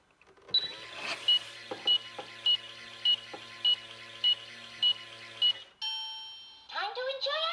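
A Minnie Mouse toy microwave counts down with regular electronic beeps about every half second, then ends with a brief falling whoosh and a bright cartoonish chime melody, all close and clear.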